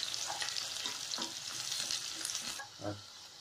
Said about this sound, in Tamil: இப்போ எடுத்து வச்சிருக்கிற வெங்காயம் சேர்த்து நல்லா வதங்கட்டும்